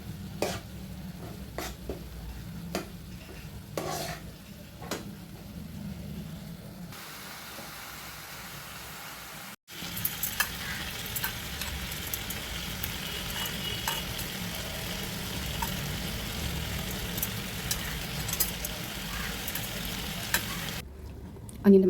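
Coriander, cumin and turmeric sizzling in a pan for butter chicken, a steady crackling fry with repeated scraping stir strokes, briefly cutting out before the sizzle resumes louder.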